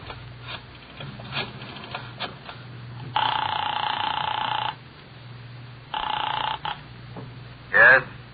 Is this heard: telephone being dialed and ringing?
yes